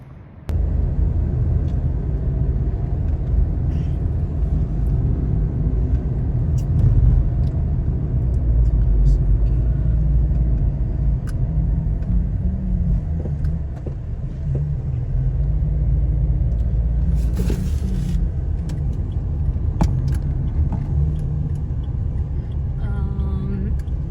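Interior rumble of a car cruising slowly through Abu Dhabi streets in search of parking, a steady loud engine and road drone throughout with brief brighter swells of passing traffic.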